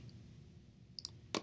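Faint computer mouse clicks while the polygonal lasso tool is used in image editing, two quick clicks close together followed by a slightly louder one at the end, over a quiet room hum.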